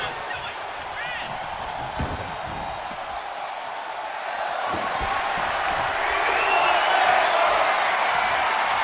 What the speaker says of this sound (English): Crowd chanting, they want tables.